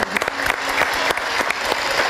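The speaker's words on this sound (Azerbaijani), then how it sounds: "Və gözəl doxudular, alqışladım." Close, loud applause from a crowd, a thick patter of many hands with a few sharper individual claps standing out, continuous through the short stretch.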